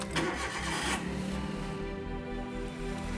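A Maruti Suzuki Alto engine running as the car drives over a frozen stream on a Himalayan mountain road, a close, steady low throbbing hum with a rhythmic pulsing note throughout and no talk.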